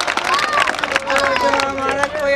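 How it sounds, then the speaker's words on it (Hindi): At a large Mahapanchayat gathering, a crowd claps for a man who has given up addiction. Steady, close applause runs under loud speech throughout. "तालियां बजा आपने नशा छोड़ा"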